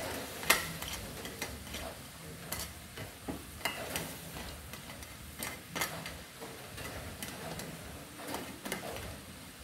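Crab simmers in a pan on a stove as the sauce reduces, giving a quiet, steady sizzle and bubbling broken by scattered small clicks and pops.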